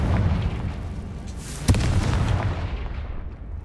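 A Confringo fire spell explodes in Hogwarts Legacy with a single sharp boom midway through, standing out against steady rumbling game ambience.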